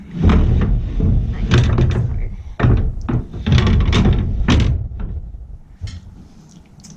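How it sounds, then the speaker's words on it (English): A heavy door in an old Kentucky mine in Northern California rumbles and clunks as it moves upward, with a series of loud close thuds and scrapes tapering off near the end. "That door would go up. It usually goes all the way up."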